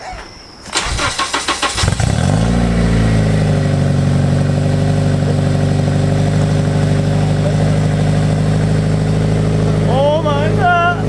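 A car with a newly fitted aftermarket exhaust cranks and fires up, then settles into a loud, deep, steady engine drone nearby, with voices briefly audible near the end.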